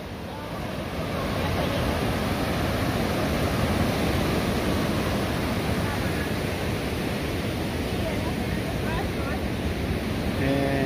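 Small ocean waves breaking on a beach at sunset, a continuous broad wash of surf that swells after the first second and stays steady, close and fairly loud with some wind.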